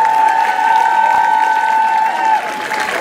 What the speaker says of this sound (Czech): Ještě jeden velký potlesk pro ně!